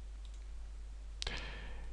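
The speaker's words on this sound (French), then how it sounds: "vous cliquez sur la dernière photo du répertoire" A computer mouse button gives one sharp, close click while photos are selected, set against a steady low hum with no talk.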